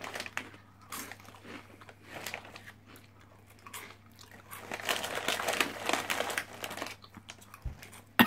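Someone bites into and chews TGI Extreme Heat crisps, giving close crunching and crackling bursts that grow denser and louder midway through, over a low steady hum, with no speech.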